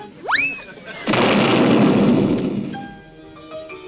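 Fireworks at a local holiday display: a rising whistle, then a long rumbling boom that fades into crackling and faint tones, with no talk.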